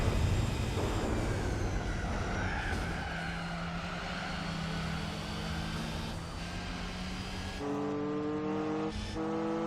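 A Mercedes SL65 race car in Gran Turismo 4 holds a steady, droning engine note among other cars, with tyres skidding and the pitch shifting as it races, loud and continuous.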